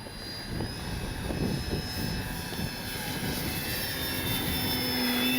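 A small E-flite Commander MPD RC plane flies in windy weather, with its electric motor whining steadily under a constant wash of wind noise and slowly shifting in pitch.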